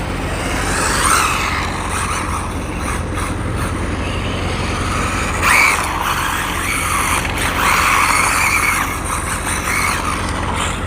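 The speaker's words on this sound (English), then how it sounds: "I'm deliberately trying to just drive hard and spin out as much as I can." An RLAARLO AK-787 2S RC car is driven hard outdoors at night, its motor whining loudly and steadily while the tires give repeated squealing skids as it spins out.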